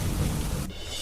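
Heavy rain pours with a dense, broadband hiss and a low thunder rumble, loud and close for about a second.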